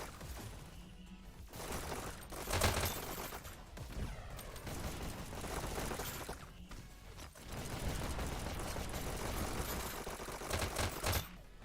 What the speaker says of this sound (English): Aiden doing a nice job working those SMGs.